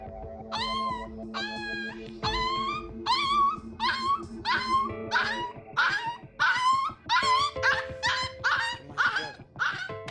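A young abandoned puppy with a sand-swollen belly whimpers and yelps repeatedly in close, high, rising cries during emergency veterinary treatment.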